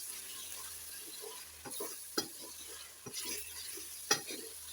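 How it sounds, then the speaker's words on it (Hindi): Spice masala for green chilli chicken is roasted and stirred in a pan: a faint steady sizzle with a few sharper spoon scrapes and clacks at intervals, close by, with no talk. "अब यहाँ पे हमने मसाले की बुनाई अच्छी तरह से करनी है।"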